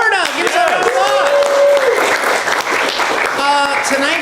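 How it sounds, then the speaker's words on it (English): Applause rises from an audience at an improv comedy show, clapping spread across several seconds while voices and a brief melodic tone cut through near the start and end. "Give us a round of applause."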